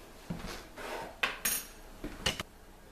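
A sanitized spoon stirs a homebrew wine mixture to dissolve it, giving a few sharp metallic clinks and scrapes against the container, spaced irregularly and close, with no talking.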